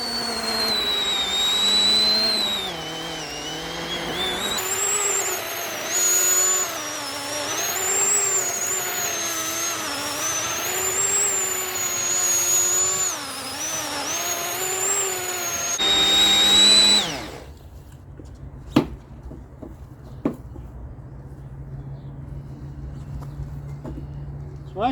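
Yardworks electric tiller churning through garden soil, a loud steady motor whine with shifting load for about seventeen seconds, then cutting out to quieter ground sounds with a few sharp knocks.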